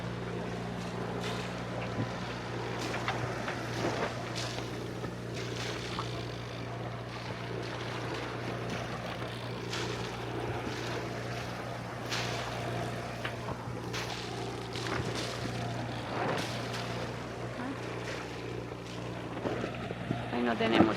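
A sailboat crossing open sea toward Ibiza under motor with a little sail, its engine a steady low drone beneath wind buffeting and water wash, continuous throughout with people talking over it.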